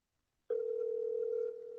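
A steady electronic telephone tone starts abruptly after a short silence and holds evenly, dropping slightly in level near the end.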